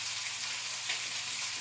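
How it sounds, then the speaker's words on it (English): Bacon frying in a pan gives a constant bright sizzle with crackling spits, close and steady throughout, with no voices. "this bacon's still cooking over here"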